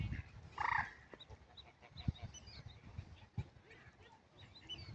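A loud honking call from Canada or white geese at a lake rings out once near the start, then faint bird calls and outdoor noise follow with scattered thumps.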